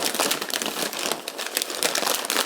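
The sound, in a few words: deli paper crinkling while wrapping a sandwich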